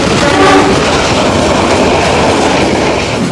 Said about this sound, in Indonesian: Oke, ada kereta lagi guys, ada kereta lagi.